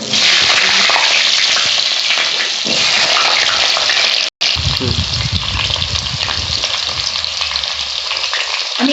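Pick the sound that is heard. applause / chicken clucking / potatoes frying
potatoes frying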